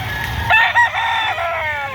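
A young stag rooster crows once, loud and close, at a poultry market behind SM Lipa City in Batangas. The call is a single strained cock-a-doodle-doo of about a second and a half.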